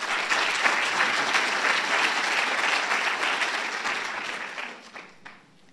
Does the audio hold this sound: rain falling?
no